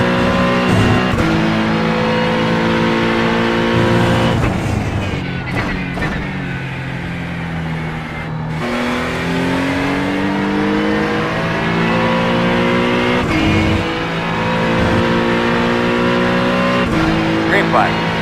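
Ford Mustang GT3 race car engine at Mugello in iRacing, loud and continuous, rising and falling through repeated upshifts and downshifts with bursts of acceleration, alone without talk.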